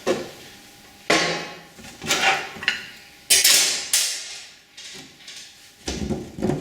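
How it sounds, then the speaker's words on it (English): Hollow clunks and clacks as a plastic appliance lid is lifted, set down and shifted, about a dozen sharp knocks at an uneven pace, close by with no talking. "Plastic lid, so that's what that sounds like."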